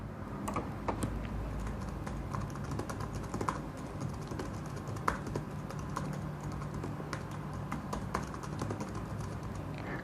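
Rapid, fairly close clicking of a computer keyboard as a chart title is typed in Excel, keystrokes coming in uneven bursts over a quiet room with no talk.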